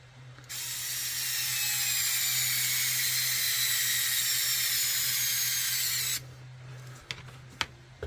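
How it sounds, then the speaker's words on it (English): An electric screwdriver whirs continuously for about six seconds, driving a screw into a Injora cage on a Redcat Danchee Ridge Runner RC car, then stops, followed by a few sharp clicks and taps. "I'm glad I'm using an electric driver, because from the sound of it, I think these things would be quite taxing on the wrist"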